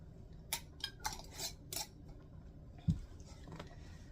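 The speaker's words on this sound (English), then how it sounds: "And then get your lids on fingertip tight." Metal lids and bands clinking and clicking onto glass canning jars of corn relish, a series of light, close taps and clatters in quick succession, then a single soft thud before quiet.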